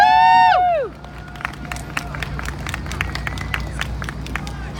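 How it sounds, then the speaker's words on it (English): A voice trails off as the audience at a Veggie Pride Festival breaks into moderate applause: sparse, uneven claps over a low crowd murmur, fairly close. "How about a big round of applause for Joyce Friedman?"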